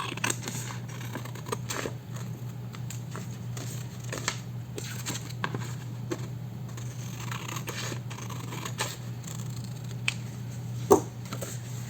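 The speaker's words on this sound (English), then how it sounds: "Now you can cut these off." Scissors snipping paper for a mini junk journal, a steady series of soft, close crisp cuts over a low constant hum, with one sharper snap near the end and no talking.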